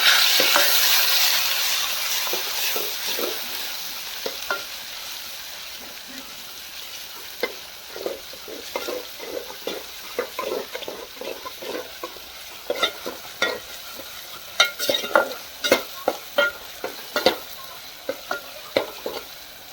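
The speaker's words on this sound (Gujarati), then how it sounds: "આપણે વઘારીએ" Spices tempered in hot oil for dal sizzle steadily while a spoon scrapes and clicks against the pan, the sharp stirring knocks growing louder and more frequent toward the end, with no talk.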